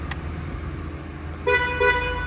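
Two short horn honks from a Dodge Ram 3500 pickup with a 5.9L Cummins diesel sound in quick succession over a steady idling engine rumble, fairly close.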